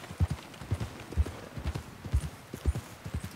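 Horse hooves clip-clopping at a steady trot as a rider heads downhill out of snowy terrain in the video game Red Dead Redemption 2, regular thudding beats close and moderately loud with no talk.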